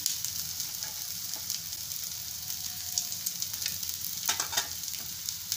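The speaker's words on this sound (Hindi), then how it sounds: "हमारा प्याज हल्का फ्राई हो गया है। अब इसमें गोभी डाल देंगे।" Shredded cabbage frying with onions in a pan, a close, steady crackling sizzle with scattered pops and light stirring, continuous throughout with no voices.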